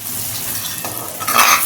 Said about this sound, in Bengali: টমেটোটার সঙ্গে ভালো করে মশলাটা নেড়ে নিলাম